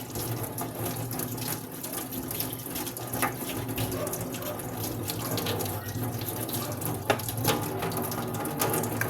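Steady running faucet water pouring into a sink while something is rubbed and scrubbed clean under the stream, with occasional clatter and a continuous low hum throughout.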